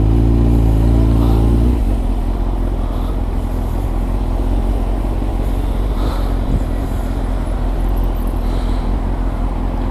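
A motorcycle rides through traffic in the Fourvière tunnel in Lyon, with a loud engine rumble that rises and then settles into a steady roar mixed with echoing tunnel road noise.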